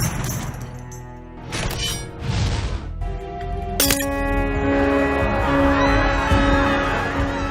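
Crowd ambience from the video game Hitman: a busy murmur of many simulated people with shouts, a sharp shattering crash and ringing tones over a loud, dense background.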